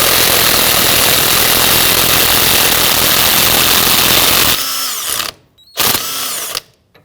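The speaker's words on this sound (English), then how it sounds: "We're going to use our impact driver here to go ahead and loosen and remove this." An impact driver loosening and removing a 27mm nut on the front steering rack of a 2009-2017 Volvo XC60, a loud continuous buzzing hammer run close up, then two short bursts with brief gaps.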